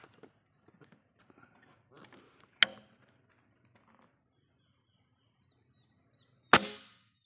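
A BST 14MK2 air rifle fires at a 100 m target outdoors, giving two sharp, sudden cracks several seconds apart, the second louder, while people talk faintly nearby.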